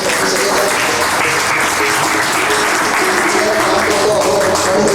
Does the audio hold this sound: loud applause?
yes